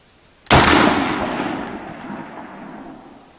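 A single sharp gunshot from a K1A submachine gun fired at a long-range target outdoors, loud and close with a long echoing tail that fades over a few seconds.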